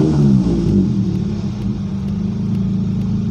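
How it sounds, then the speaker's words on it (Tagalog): A misfiring car engine being revved during a repair check, a loud, close, sustained low rumble that sputters and coughs slightly before holding steady. "pag nirev natin is parang sinisunok or inuubo-ubo yung makina bago mag-gain up yung RPM nya"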